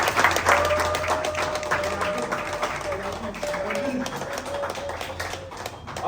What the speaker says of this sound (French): On peut applaudir pour le féliciter.